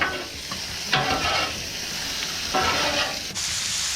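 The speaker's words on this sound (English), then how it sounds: "I'm going to stir up this meat a little bit" Meat frying and starting to crisp in a pan for jambalaya, a loud continuous sizzle with a few sharp stirring scrapes, close up and free of speech.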